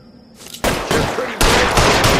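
Bursts of loud gunfire in an L.A. Noire police shootout, a faint tone giving way at about half a second to dense, sustained volleys that surge again midway and keep rattling to the end.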